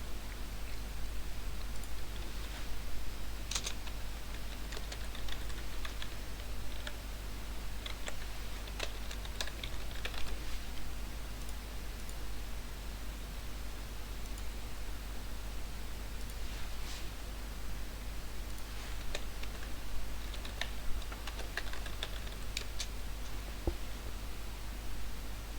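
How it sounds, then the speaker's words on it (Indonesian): Commands are typed on a computer keyboard in quick, irregular bursts of light keystroke clicks, faint and close over a constant low electrical hum, with no talking. "untuk mengecek RAM yang tersedia, maka kita dapat mengetikkan perintah berikut"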